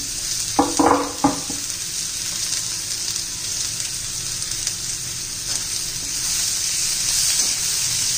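Finely chopped onions sauté with ginger-garlic paste in a pan for egg masala, a broad steady sizzle lasting throughout, with a few clattering stirring knocks near the start and no voices.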